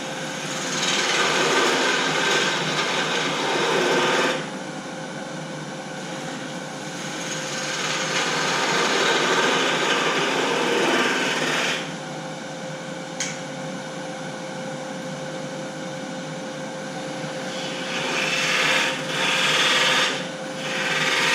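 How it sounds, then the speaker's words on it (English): A spindle gouge cuts wood on a lathe during a Christmas tree turning demonstration. It makes a continuous rasping, scraping cut that swells and eases in several passes over about twenty seconds, with no talking. "get the spindle gouge to start right on that edge"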